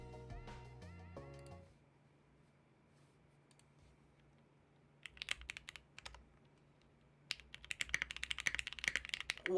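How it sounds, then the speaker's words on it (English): A HEX 3CV2 keyboard with lubed Gateron CJ switches is typed on, starting with sparse keystrokes and building to a dense, rapid run of soft, muted clacks. Some muffled handling sounds come first. "hear how this keyboard sounds."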